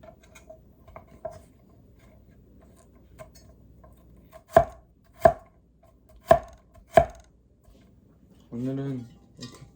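Four sharp chops of a Chinese cleaver through vegetables on a cutting board, evenly spaced, after some quieter clinks and taps, followed by a brief voice.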